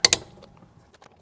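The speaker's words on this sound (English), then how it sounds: "we've got the torque wrench, and start here at the top" A torque wrench set to 140 tightens lug nuts on a Rivian during a tire rotation, giving two quick, sharp close clicks followed by faint metallic clatter.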